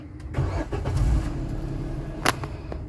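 Suzuki Espresso small car engine cranking and catching, a short starter whirr then a steady low idle rumble close by, with a sharp click partway through.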